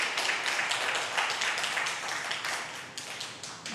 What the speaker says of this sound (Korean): 박수하시겠습니다.